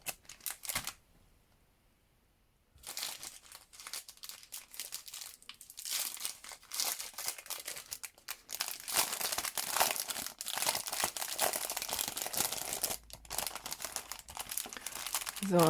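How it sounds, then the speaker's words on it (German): Crinkly plastic packaging from a craft haul being unwrapped, close and busy rustling and crackling after a short quiet gap near the start, growing denser and louder as the wrapping is handled, with no talking. "Jetzt will ich das mal eben auspacken."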